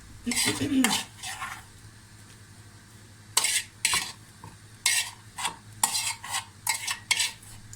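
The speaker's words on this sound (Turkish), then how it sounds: "Şöyle çökelekle soğan kavurması tabağımıza alalım." Spoonfuls of crumbly curd cheese and fried onion being scraped from a frying pan onto a plate, with repeated metal-on-pan scrapes and clinks in short bursts over a faint sizzle.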